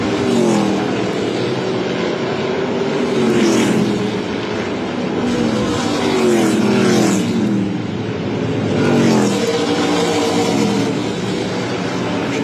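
ARCA Menards Series West stock cars race on the Irwindale oval, engines roaring loudly and continuously as a pack passes, with pitch rising and falling through the corners and no commentary over it.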